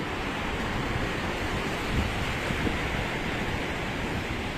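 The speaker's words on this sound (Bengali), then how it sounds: "আর দেখেন কি বিশাল বিশাল ঢেউ।" Big ocean waves surge onto the beach at Cox's Bazar, a steady broad roar of surf with no pauses, loud and close, with wind mixed in and no talking.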